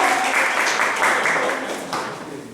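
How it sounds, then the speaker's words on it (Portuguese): Group applause from a class or congregation, dense clapping that swells and tapers over a couple of seconds, fairly close and moderately loud, with a voice speaking briefly underneath. "uma salva de palmas para o Gabriel"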